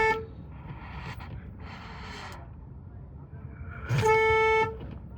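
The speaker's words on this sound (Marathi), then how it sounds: "नको हॉर्न वाजू" A car horn sounds on a road trip from Nashik to Pune: a few brief toots, then a longer, louder blast near the end, over steady road rumble.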